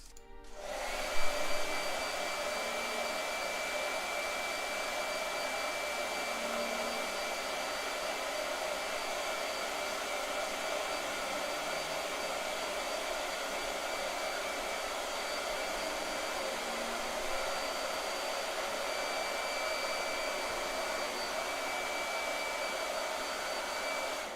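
A blow dryer switches on and runs steadily, a loud continuous whir with a high whine, unbroken for the whole stretch.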